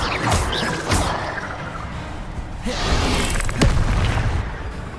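An Incendio fire spell is cast in a wizarding action game, with whooshing bursts of flame, booming impacts and crackling flares scattered across the moment, punctuated by a sharp hit near the end.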